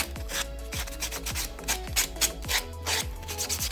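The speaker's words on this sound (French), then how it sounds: "On prend ensuite le bloc ponce pour enlever les barbes." Buffer block rubs back and forth over a gel nail surface, steady rasping strokes repeating in a quick regular rhythm, close and fairly soft.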